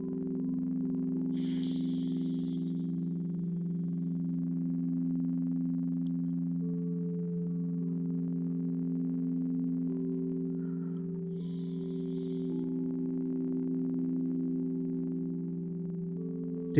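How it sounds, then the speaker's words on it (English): Sound bowls ring with steady, sustained low tones and shimmering overtones during a yin yoga session, a calm continuous drone with a few faint breaths or snorts over it. "sound bowls rule, right? I love them."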